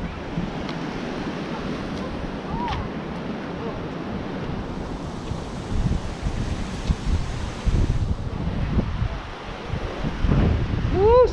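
Steady wind roars across the microphone at Estes Park, buffeting loudly with surf-like rushing noise and brief faint voices in the background.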